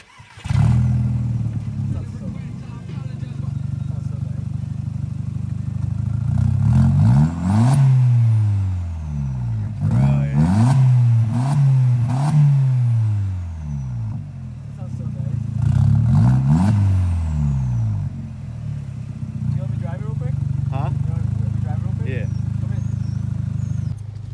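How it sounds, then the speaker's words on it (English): A Mk4 VW 1.8T engine revs repeatedly through a loud custom cat-back exhaust, rising to a roar and dropping back in several bursts over a steady idle, with voices talking. "Gonna get some revs of it, see what it sounds like."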